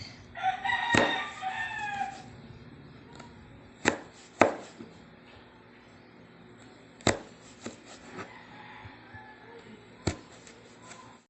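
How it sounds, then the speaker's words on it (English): Sharp knife strokes chopping vegetables into thin julienne strips on a cutting board, a handful of distinct, fairly loud chops spaced apart with some clucking and rooster-like calls audible early on. "So here is the Julienne cut."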